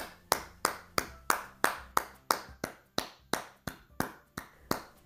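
A woman claps her hands for herself in a steady, evenly spaced run of about sixteen crisp claps, close and alone with no talking.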